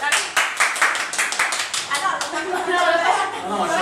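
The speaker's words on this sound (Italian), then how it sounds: "Grandi, fatevi un applauso." A small group claps in a quick burst at a casual sticker party, close and lively, with voices chattering through and over the clapping.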